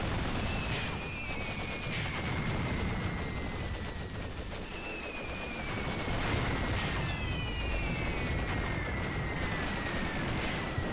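Artillery strike in the WWII strategy game Cross of Iron, Mius Front German defense: continuous heavy booms and rattling gunfire with whistling shells streaking overhead, dense and loud throughout.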